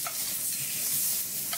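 A thick filet mignon steak sizzling in a hot pan, a steady, hissing fry with a faint tap or two, close and even throughout with no talk.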